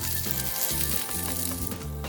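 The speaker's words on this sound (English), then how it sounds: "I brush a little bit of vegetable oil on a non-stick pan and I cook each Bolani for 3 to 4 minutes on one side, medium to high heat" Bolani stuffed flatbread frying in vegetable oil on a non-stick pan over medium-high heat, giving a steady close sizzle under background music, with no talk.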